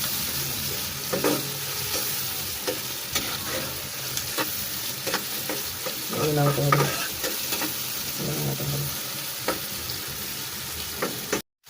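Chopped tomato, onion and green chili with turmeric and chili powder are stirred in a frying pan for shrimp bhuna, a steady close sizzle broken by repeated scraping stirs and a few louder bursts of spatula strokes.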